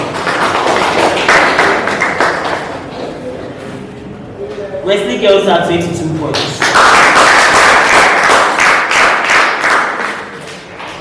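An audience at a senior high school quiz contest claps for the competing teams. Bursts of clapping come at the start and again later, under a voice announcing scores.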